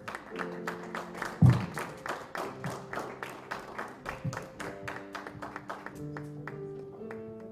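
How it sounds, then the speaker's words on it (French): An audience at a community presentation claps in a steady rhythmic beat, sharp regular claps repeating over soft sustained tones, moderately quiet with one louder knock near the start. "Applaudissez-le très fort,"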